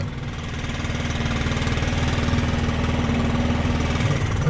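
A new Stihl BR800 backpack leaf blower engine idles steadily nearby, a low chugging hum with a slight rhythmic knock, loud and continuous with no talking.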